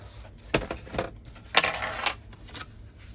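Scored cardstock being folded and creased by hand, a few crisp rustling swipes and crackles in short bursts, close and fairly quiet with no voice.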